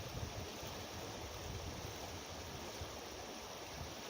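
The River Meaden flows under a bridge with a steady, even rush of running water, continuous and moderately loud with no other distinct sounds.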